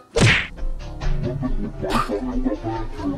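A sharp, loud thwack of a punch landing on a person, followed by a noisy scene with voices and background sounds.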